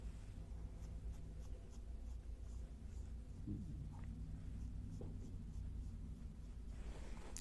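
An eyebrow brush makes soft, close scratchy strokes through the brows during a quiet makeup routine. A few slightly firmer swipes stand out over a low background hum, and no one speaks.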